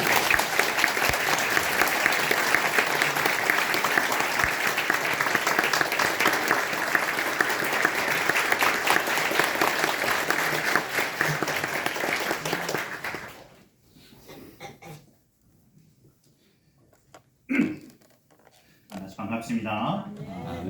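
A church congregation applauds as the pastor comes forward, with loud sustained clapping for about thirteen seconds, then quiet, followed by a voice speaking.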